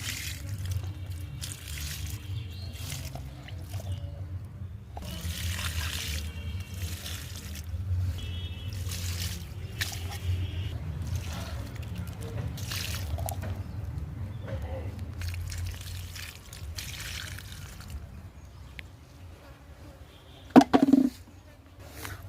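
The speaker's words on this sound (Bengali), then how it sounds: "এই দেখুন আমি কিন্তু গাছের গোড়ায় এই যে জল দিচ্ছি, আমি গাছের গোড়ায় সার দিচ্ছি" Liquid organic fertilizer is poured at the base of garden plants, giving a soft, steady trickle and splash over a long stretch, with a sharp knock near the end.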